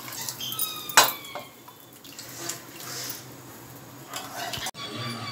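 Tamarind water mixed with chickpea cooking water is poured into a kuzhambu pot in a home kitchen, heard as light splashing and liquid pouring with a sharp utensil clink early on and soft kitchen clatter.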